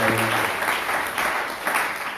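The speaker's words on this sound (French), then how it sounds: "Acclame pour toi-même." A church congregation at a Sunday service claps together in steady, continuous applause that fills the room for a couple of seconds, with a short voice at the very start.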